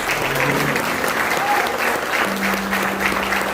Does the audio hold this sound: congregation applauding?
yes